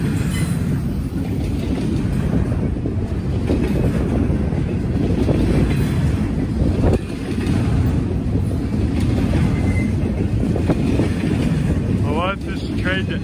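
A long freight train with well cars rumbles steadily past up close in Muncie, with constant clattering wheels and wind buffeting the microphone throughout.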